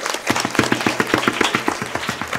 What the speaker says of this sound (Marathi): तुम्ही टाळ्या वाजवा